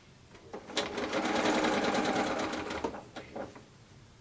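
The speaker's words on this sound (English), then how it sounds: "just sew all around with exception of that gap here" A domestic sewing machine stitches a patchwork scarf with fleece backing, running in a steady whirring burst for about two seconds between short start-stop clicks, near and clear with no talk.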